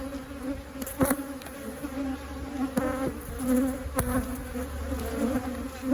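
Honeybees swarm loudly around a hive frame and sting at a beekeeper's gloves, making a dense, close buzzing drone with a few sharp knocks and bumps, steady throughout with no speech.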